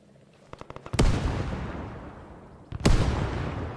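Frag grenades exploding in the military game Arma, in a Vietnam War setting: a few quick pops lead into a loud close blast with a long rumbling tail, followed by a second equally heavy explosion.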